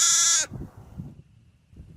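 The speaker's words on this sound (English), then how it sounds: "who could forget my interview with a sheep down near Hartselle?" A single sheep near Hartselle lets out a loud, close bleat that breaks off abruptly after half a second, leaving faint low rumbling background.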